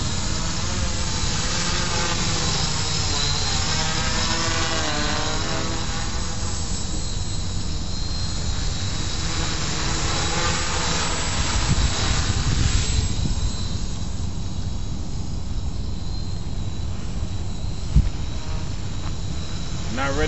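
A blue quadcopter drone flies inverted, its steady buzzing whine of propellers rising and falling in pitch as it maneuvers, close by, with intermittent voices talking over it.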